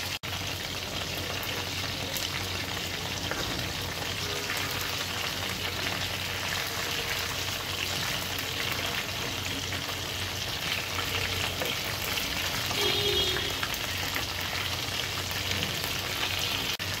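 Turkish-style chicken shashlik kebabs frying gently in oil over low heat, a continuous soft close sizzle and crackle throughout, no talking.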